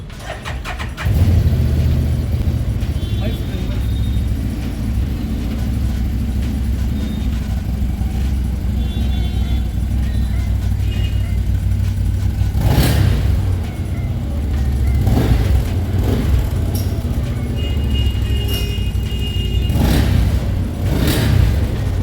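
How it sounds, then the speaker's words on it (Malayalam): An Odes Dominator X4 1000 4x4 off-road jeep starts and settles into a steady, rumbling exhaust note at idle, loud and close, with a few brief blips of the throttle later on. "അപ്പോൾ നമുക്കൊന്ന് സ്റ്റാർട്ട് ചെയ്ത് നോക്കാം കേട്ടോ. അപ്പോൾ നമുക്കിത് എക്സോസ്റ്റ് നോട്ടൊന്ന് കേട്ടോ."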